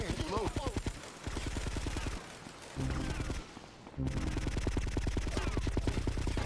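Gunfire in GTA Vice City Stories: rapid, loud bursts of automatic shots in a steady rhythm, dropping out briefly twice before resuming, with a voice talking over parts of it.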